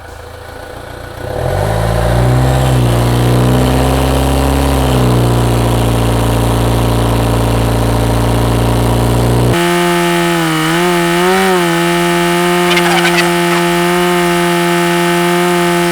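A car engine idles, then is held at a steady raised speed around 1500 rpm during intake-system cleaner spraying, a loud continuous drone with a shift in pitch partway through, no talking.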